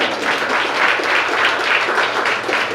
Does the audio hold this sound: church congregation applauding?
yes